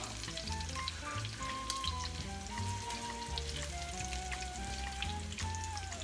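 Chickpeas brown and sizzle in a pan. The hiss of frying is continuous and even, and a melodic tune plays over it. No one speaks.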